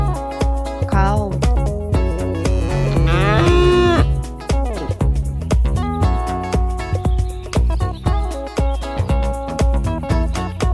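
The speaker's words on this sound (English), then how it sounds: "Cow." A cow moos loudly over continuous background music, the low drawn-out call standing out clearly in a playground setting.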